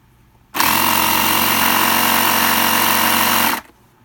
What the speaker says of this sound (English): And I'll turn the compressor on.